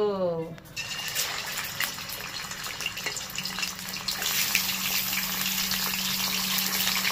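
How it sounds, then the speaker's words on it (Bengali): Chicken pieces frying in hot oil for a Bengali chicken curry, a steady loud sizzling hiss that builds after an initial splash and continues with a faint low hum underneath, while someone talks over it. "তেলটা দেখো পুরো গরম করে নিয়েছি, এইবার চিকেন গুলোকে ফ্রাই করে নেব"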